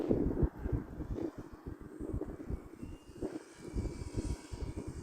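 Arrows Husky Ultimate RC model airplane flying slowly and banking outdoors in wind, its electric motor a steady buzzing drone mixed with gusty wind rumble on the microphone, no talk.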